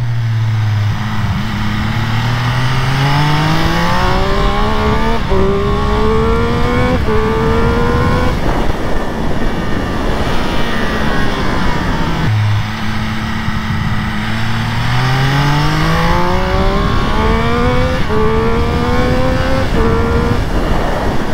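Triumph Speed Triple 1200 RS motorcycle on the Carole race track, engine repeatedly climbing through the revs with sharp drops at each gear change, loud and continuous with no speech.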